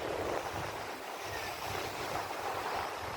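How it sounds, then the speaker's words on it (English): Waves breaking along the Cornish coastline, a continuous broad rushing wash of surf mixed with gusty wind buffeting the microphone, steady and fairly soft with no talking. "This is the Cornish coastline."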